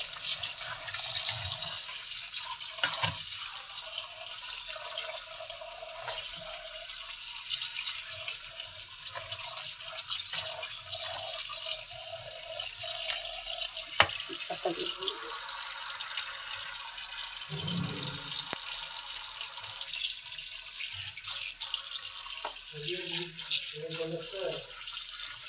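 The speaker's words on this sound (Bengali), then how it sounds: "সিদ্ধ হয়ে গেলে এটাকে ধুয়ে নিতে হয়।" Tap water runs steadily in a kitchen sink as boiled food is rinsed. The flow is continuous and close throughout, with faint voices now and then.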